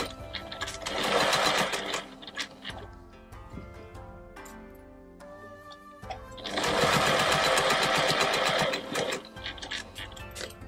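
A sewing machine stitching a nine patch quilt runs in two fast, whirring bursts with a quieter pause between them, close and clear, with no talk over it.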